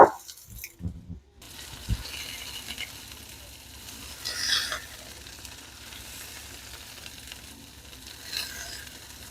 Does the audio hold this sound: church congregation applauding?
no